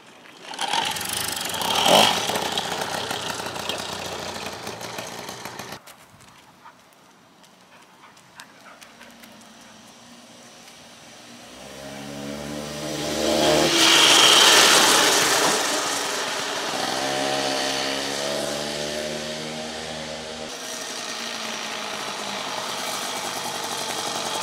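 A cold moped engine that had been hard to start is cranked, then catches, revving up to a buzzing two-stroke roar before settling into a steady idle nearby.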